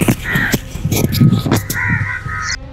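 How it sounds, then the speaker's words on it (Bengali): Crows caw in an abandoned, overgrown old-city neighbourhood, with a series of harsh, repeated calls that sound loud and close, with only faint background noise between them. "সারাদিন কাক ডাকে।"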